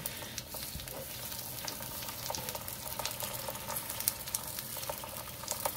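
Seasoned lamb shank mixture with cayenne, curry, oregano and basil cooking in a pan while being mixed, giving a soft continuous sizzle with light scraping and stirring clicks throughout, fairly faint and without voices.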